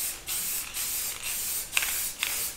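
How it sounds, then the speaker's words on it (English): Short hissing bursts of metallic spray paint from a rattle can, laid on as a heavy coat over 3D printed Mandalorian armor, come in about five close, even spurts with small clicks between them. "So we're gonna rattle can this one up."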